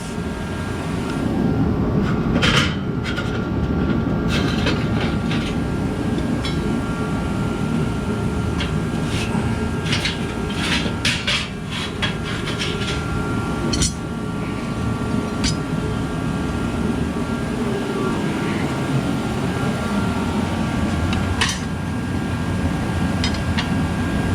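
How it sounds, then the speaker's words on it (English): A surface grinder works on trench knife blades in a workshop, giving off a loud, continuous roaring whine that holds steady for the whole stretch. Brief metallic ticks and scrapes rise above it now and then. "I'm gonna surface grind probably 2 blades."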